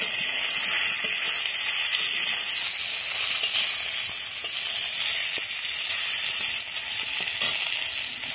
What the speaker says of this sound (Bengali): ওই তেলে কি উচ্ছে দিয়ে দেবো, একটু নেব আর কি ভেজে নেব